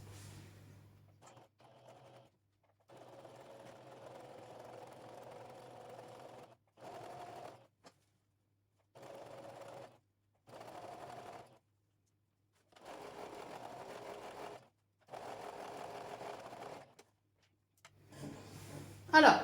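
A sewing machine fitted with a zipper foot runs a straight seam in repeated bursts of steady mechanical whirring, each separated by short pauses, close and moderately quiet, with a faint voice in between.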